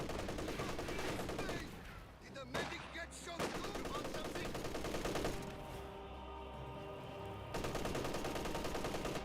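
An MG-34 machine gun in Company of Heroes 2 rattles in rapid bursts mixed with other battlefield gunfire, broken by short pauses, with a commentator talking over the action.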